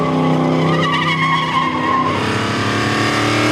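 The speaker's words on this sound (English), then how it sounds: "I bought it to have fun and skid it" A 1965 SS Impala factory big-block muscle car with a 496 stroker and nitrous skids loudly and continuously, its tires squealing over a roaring engine throughout.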